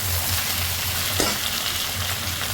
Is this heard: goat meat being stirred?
yes